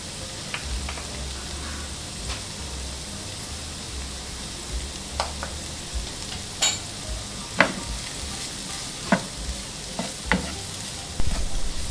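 Onions, garlic, paprika, chili powder and ground cumin stir-frying for shakshuka: a steady close sizzle with scattered scrapes and clicks of a utensil against the pan, growing more frequent toward the end.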